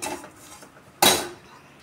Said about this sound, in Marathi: आणि यातच लसूण टाकते.